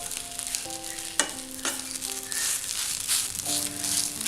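Softened tomatoes for bread upma are stirred in a hot pan, a steady sizzle with several sharp scraping strokes of a utensil against the metal, close up and with no one talking.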